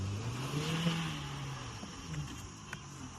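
A new car is driven at low speed, its engine humming and revving steadily with a rising and falling drone, heard close from inside or beside the vehicle with no voices.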